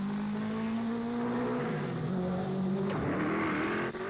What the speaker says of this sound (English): Ascari is driving desperately to try and avoid being lapped by Moss